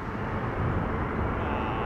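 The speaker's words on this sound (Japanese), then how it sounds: "結構大きい飛行機かな今度の" Large passenger jet flying low overhead near Narita Airport, a steady broadband roar with a low rumble that holds loud and close for the whole moment, no talk over it.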